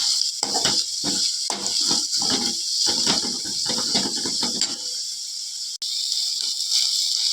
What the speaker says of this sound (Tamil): மீதம் இருக்கிற கருவேப்பிலை முருங்கை இலை எல்லாத்தையுமே போட்டுக்கலாம் போட்டுட்டு வந்து நல்லா வதக்கிக்கலாம்